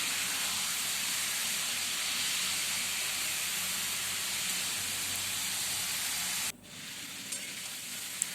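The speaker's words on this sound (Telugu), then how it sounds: "చూసారా ఫ్రెండ్స్, ఫ్రై అవుతున్నాయి" Stuffed eggplants fry in oil over a low flame, giving a steady, close, even sizzle that runs unbroken for several seconds before cutting off abruptly near the end.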